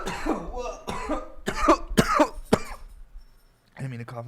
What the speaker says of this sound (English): I didn't mean to cough in the mic like that.